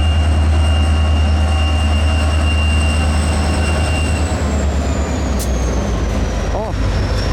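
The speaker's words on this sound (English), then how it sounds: "This is the local train with the shoving platform." A CSX local freight train, Y-162, running with a shoving platform, rumbles past nearby in Lakeland, Florida, loud and steady, with a heavy low roar, faint high wheel squeals and clanking throughout.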